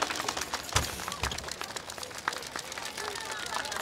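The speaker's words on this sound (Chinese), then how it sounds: "大家掌声欢迎" An audience at a staged singing performance breaks into steady, dense applause to welcome a singer, the clapping filling the space evenly with a few sharper claps standing out.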